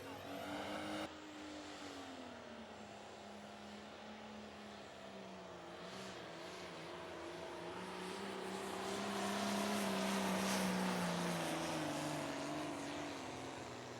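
A Light Limited Pro Stock pulling tractor on a dirt track at Wisner, Nebraska, roars steadily at full throttle as it drags the sled, its engine note swelling louder and rising toward the middle before easing slightly, heard from a moderate distance.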